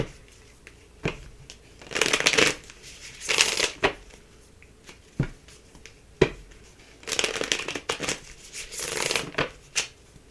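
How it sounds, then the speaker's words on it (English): Tarot cards being riffled and shuffled in several bursts, crisp papery flutters separated by short pauses, close by with no talking. "Let's get another couple of shuffles here."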